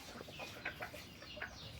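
Faint junglefowl clucks come in a few short, scattered calls against a quiet outdoor background of free-ranging birds.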